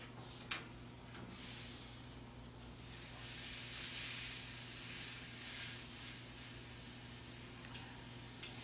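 A freshly flipped Wagyu tri-tip sears on a Yoder flattop with a steady, broad sizzle and hiss, a few faint clicks over a low constant hum.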